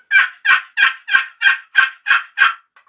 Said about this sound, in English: yelps are this type are probably the most common sound that you'll hear a turkey make